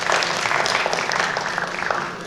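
Audience applause at a student natural-science research presentation event, a dense, steady wash of many hands clapping that holds throughout and tapers slightly at the end.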